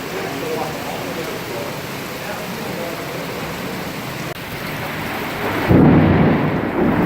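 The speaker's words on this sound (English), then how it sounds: "You see it's raining really hard" Heavy rain pours steadily in the mountains around a GoldWing motorcycle on the Tail of the Dragon road, with rumbling thunder mixed in and a louder burst of downpour near the end.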